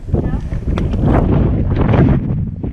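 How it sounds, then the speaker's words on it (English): Strong gusting wind buffets the microphone on a high mountain ridge in the Northern Presidentials, a loud, continuous roar with surging gusts throughout the clip. "Wind's probably gusting to 30 up here."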